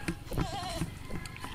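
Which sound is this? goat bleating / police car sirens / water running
goat bleating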